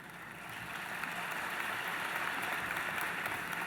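A large audience at a university convocation gives steady, even applause that swells in the first second and holds as a continuous, soft wash of clapping heard from a distance.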